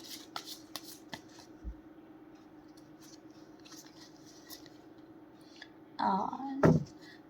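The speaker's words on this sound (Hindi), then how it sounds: "एक कार्ड हम लेंगे एनिमल स्पिरिट गाइड से।" Cards from an animal spirit guide deck being shuffled and one drawn, soft close riffling and flicks, sparse at first and then a louder burst of shuffling near the end, with no talk.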